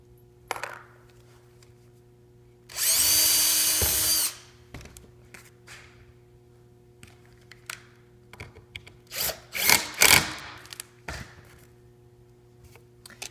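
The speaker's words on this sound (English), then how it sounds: "If you got drywall, the drywall screws should set no problem into that drywall." A power drill drives drywall screws into a wall during a 15-inch planar speaker installation. There is one loud whirring burst, then several shorter bursts with clicks and handling knocks in between, heard close up in a quiet room.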